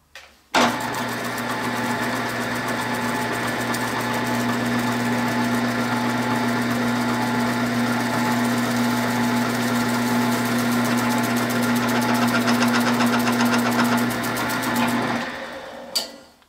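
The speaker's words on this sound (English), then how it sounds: "we're going to head over to the drill press and put a little bit of a divot with a 3/4 inch Forstner bit into each one of these blocks" A drill press boring shallow recesses into small wooden game blocks with a 3/4 inch Forstner bit, a steady loud motor drone with a strong low hum running unbroken for about fifteen seconds before spinning down.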